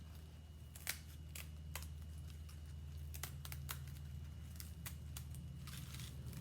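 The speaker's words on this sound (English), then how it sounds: "And then you just can use regular scissors to cut these letters out." Regular scissors snip paper letters in a series of short, crisp, irregularly spaced cuts over a steady low background hum, fairly quiet and close, with no talking.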